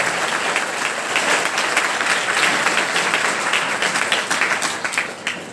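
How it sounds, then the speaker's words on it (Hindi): Schoolchildren at a school event applaud loudly and continuously, a dense crowd of clapping hands sustained at close range before tapering slightly at the end. "आप सब ताली बजाएं"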